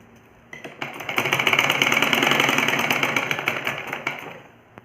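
A sewing machine hums steadily while stitching the neckline of a ladies' kurta, a continuous close whirring that swells in the middle and tapers off, with light ticking and no talking.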